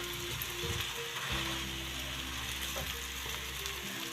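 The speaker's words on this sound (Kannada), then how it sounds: "ಈಗ ಅನ್ನ ಹಾಕ್ತಾಯಿದ್ದೀನಿ." Cooked rice is tossed into a hot pan and fried for egg rice, giving a continuous moderate sizzle with a steady low hum underneath and no talking.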